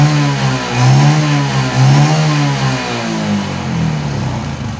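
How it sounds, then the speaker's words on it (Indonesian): A Yamaha Jupiter MX motorcycle engine revs steadily up close, loud and continuous with a rising and falling buzzing tone through the whole stretch, no voices over it. "Oke, saya geber"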